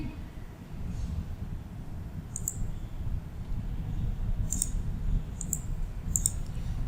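A computer mouse gives a handful of small, crisp clicks, some single and some in quick pairs, over a low steady background hum.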